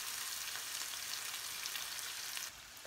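Onions sizzling in hot oil in a pan for chicken curry, a steady close, bright crackle that runs unbroken before dropping slightly in level near the end.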